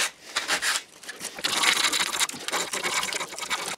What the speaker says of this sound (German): Dann schleifen wir das Ganze noch ein bisschen bei und vor allen Dingen hier diese Ecken hier vorne